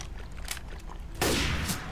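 Gunfire in Left 4 Dead 2 during a fight with a Charger in an underground high school level: scattered faint shots, then a loud sustained burst of shooting in the second half.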